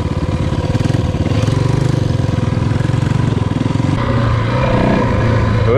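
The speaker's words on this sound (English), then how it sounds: "It's definitely easier riding a dirt bike through this stuff" A Yamaha WR400 dirt bike engine runs steadily at mid pitch while it rides through lake water, loud and continuous throughout with no clear splashing standing out.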